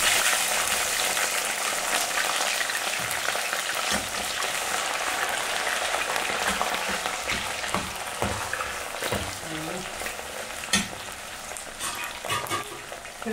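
Meatballs and diced potatoes frying in a pan, a loud, continuous hissing sizzle with occasional crackles and pops, heard close up with no talking.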